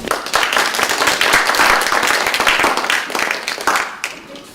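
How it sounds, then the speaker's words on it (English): Loud, close applause from an audience at a hospitality pitch competition, dense clapping that swells and then tapers off near the end. "Let's give them a round of applause."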